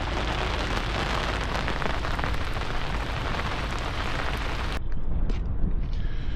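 Heavy rain pours steadily onto an anchored sailboat in a storm, a dense continuous hiss that stays loud throughout, turning duller and closer toward the end.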